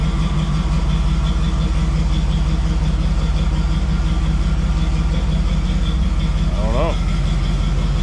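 A Jeep CJ7 with a TBI swap idles steadily and loudly, its constant engine drone running throughout, with a brief throttle blip or whine near the end and a voice speaking briefly over it.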